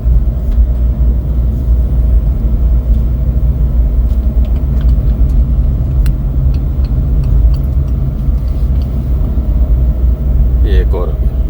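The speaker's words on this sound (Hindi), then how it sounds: "एक के बाद एक चील चक्कर और हर बार गाड़ी डिसेंड करती जा रही है।" A car descending a winding mountain road with hairpin bends, a steady low engine and road rumble throughout, heard from inside with people talking over it.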